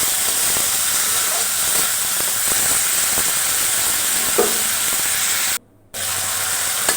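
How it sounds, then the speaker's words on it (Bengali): Potatoes sauté in hot oil, with eggplant mentioned as the dish, giving a continuous loud hiss with faint stirring touches and a sudden brief dropout near the end. "এবং আলুগুলো কষিয়ে নিব আগে।"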